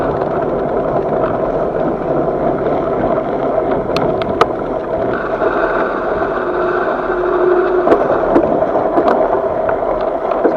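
Strong wind during a winter bike commute at about minus 10 Celsius, a steady broadband roar of air rushing past the camera microphone, continuous and fairly loud with a few sharp clicks.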